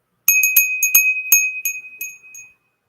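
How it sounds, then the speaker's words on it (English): A small hand bell rings about seven quick strokes, close and clear, each bright tone overlapping the next before the last few fade out into silence. "I love this little bell."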